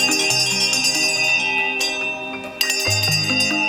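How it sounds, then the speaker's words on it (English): A bright opening bell rings out at a stock market opening ceremony with rich, sustained ringing tones, struck again partway through, loud and close with no talking. "ring the bell to signify the opening of the market"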